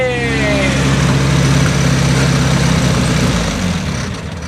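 A 1972 Volkswagen Beetle engine idles steadily at a car show, a loud close mechanical drone with a faint rise in revs before it eases off slightly near the end.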